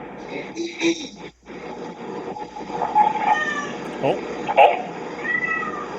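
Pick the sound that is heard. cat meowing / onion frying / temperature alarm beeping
cat meowing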